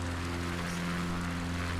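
Steady drone of a propeller airplane engine in Microsoft Flight Simulator 2020, during a Patagonia bush trip, holding an even, moderately quiet hum with no talking.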